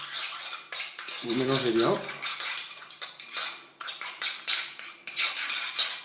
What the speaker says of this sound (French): Et ensuite, donc vous mélangez